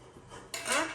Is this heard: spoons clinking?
yes